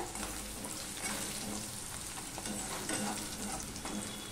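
Garlic and onion fry in a pan with a quiet, even sizzle and occasional soft stirring scrapes, no voices.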